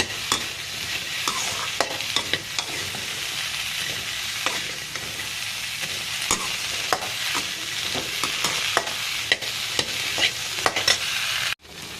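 Okra and potato pieces fry in a pan for sambar, giving a loud, continuous sizzle with frequent sharp spatula clicks and scrapes throughout, with no voices.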